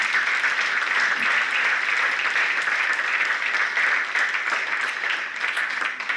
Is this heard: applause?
yes